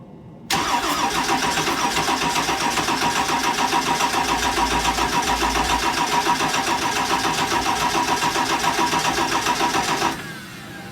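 Cummins diesel engine swapped into a Ford F250 cranks and catches quickly, then runs loud and steady for about ten seconds with a rhythmic clatter before cutting off, with no talking.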